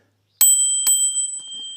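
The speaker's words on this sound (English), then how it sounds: "There's my cool bell." A bicycle bell dinged twice in quick succession, bright and close, each strike leaving a clear metallic ring that slowly fades.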